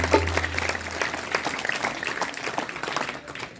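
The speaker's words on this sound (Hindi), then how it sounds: "इसलिए एक बार जोरदार तालियां बजाओ उनके लिए।" Audience applause at a religious devotional gathering, a fairly soft wash of clapping that holds steady for a few seconds and gradually fades.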